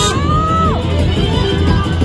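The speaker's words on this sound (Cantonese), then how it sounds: "好多現場觀眾都同你加油啊！" A live crowd at the Cheung Chau bun scrambling final cheers steadily, a continuous roar of audience voices under an excited commentator talking.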